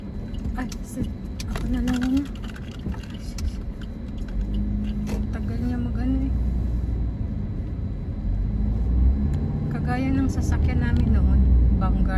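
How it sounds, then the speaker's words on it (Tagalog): Steady rumble of road traffic with cars passing and engines droning, while people talk over the continuous noise. "ang dami sasakyan dito."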